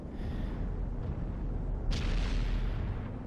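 Russian tank cannons firing during a competitive World of Tanks-style pro league match; a broad rumbling report with a sharp burst near the middle, heard alone under constant low battle noise.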